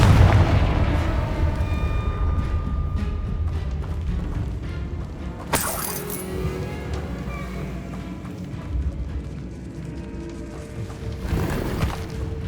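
Confringo spell blasts in Hogwarts Legacy come as repeated booming explosions over a rumbling combat backdrop, with one sharp burst standing out midway and another near the end.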